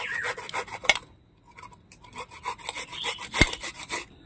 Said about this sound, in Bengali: এই আদাটা ঘষে নিচ্ছি